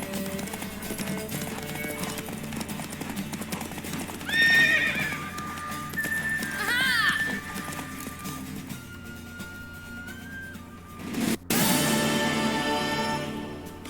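Hooves clip-clop steadily while a mare neighs and whinnies a couple of times, with a busy rumbling background and a sudden bright burst near the end, in the video game The Witcher 3: Wild Hunt.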